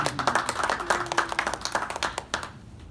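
An audience claps at a magic lecture, with a steady run of close, sharp hand claps that thin out and stop near the end, and no talking.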